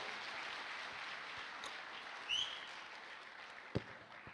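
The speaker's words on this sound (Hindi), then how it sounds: "जोरदार तालियां होनी चाहिए" An audience claps for a prize winner at a business event, a steady patter of applause that stays fairly faint and distant, with a short squeal and a single knock partway through.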